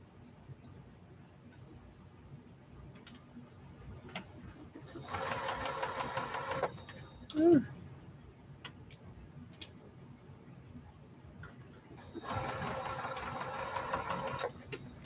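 A sewing machine runs in two steady bursts of rapid stitching, each a few seconds long, separated by a quieter pause with a faint brief tone and some scattered ticks, fairly close.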